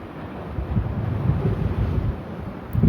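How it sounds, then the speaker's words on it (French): Gentle water lapping at a sandy shore at Saintes-Maries-de-la-Mer in the Camargue, mixed with steady wind; a continuous soft wash rising slightly toward the end, with no talking. "le clapotis de l'eau."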